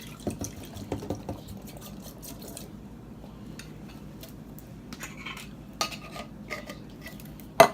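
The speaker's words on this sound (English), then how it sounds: "And then I'm going to put my beans in the pan." Beans go into a pan in a home kitchen, giving a few quick clattering rattles at the start, a quiet stretch of faint scraping, then one sharp knock at the end, all soft and close.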